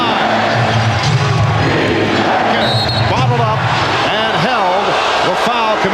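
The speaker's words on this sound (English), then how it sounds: "The effect of the home crowd, which just keeps pushing and pushing for their favorite Bulls here." Home crowd cheering and roaring steadily for the Chicago Bulls against the Seattle SuperSonics at the 1996 NBA Finals Game 6, a dense, loud arena din under a TV commentator's talk.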